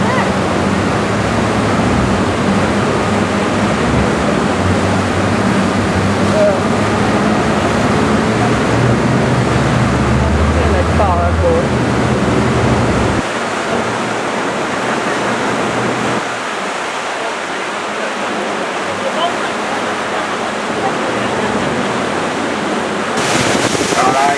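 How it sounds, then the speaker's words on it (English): Tidal water rushes through the narrow gap at Horizontal Falls, a steady loud broadband roar of surging water and wind with no breaks, dropping briefly in the low end midway before continuing. "the tide in this bay is dropping a lot faster than the water can make it through that gap there"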